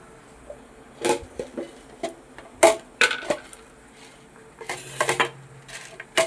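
Whole spices clatter and tick into a stone mortar in scattered bursts, with sharp clinks and quiet pauses between, close by and no talking, while making paruppu rasam.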